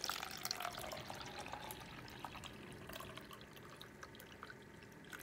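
Water is poured from a reservoir into a cup for a homemade seed starter, giving faint, gentle trickling and splashing with small drips throughout, quiet and close, with no talking.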